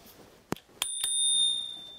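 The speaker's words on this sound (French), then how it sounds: "Et là, une petite sonnette." A bicycle bell on a Himiway Cruiser fat bike rings with a couple of quick strikes and a bright lingering ring, close by, with light handling noise before.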